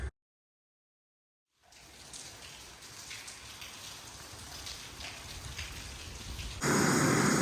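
Steady rain patters down after a brief silence, a dense hiss of drops that grows louder and heavier near the end.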